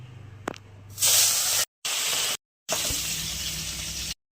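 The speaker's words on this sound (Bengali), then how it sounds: "মাছগুলো ভেজে নেব।" Bata fish frying in hot oil, loud bursts of spattering sizzle that cut in and out in three separate stretches, close and hissing.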